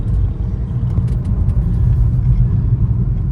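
A BMW 328i E46 cruises smoothly, heard from inside as a steady low engine and road rumble, even and quiet with no revving or shifts standing out.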